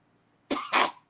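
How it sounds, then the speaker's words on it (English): A single person coughs twice in quick succession, close and fairly loud, with a short wet rasp in each burst and silence around them. "Just cough right in the phone."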